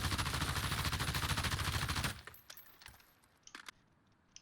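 Rapid fire from an M4 blaster at the hip peppers a plywood board, a fast rattling burst of impacts lasting about two seconds, then a few scattered clicks and taps.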